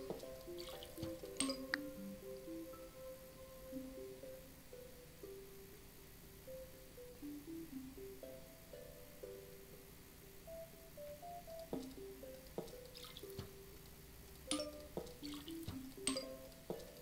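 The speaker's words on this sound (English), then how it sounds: "Let me just do a little more watering." Watering plants in the Plants vs Zombies video game: soft splashing and dripping water effects come in short clusters over quiet game music, with no talking.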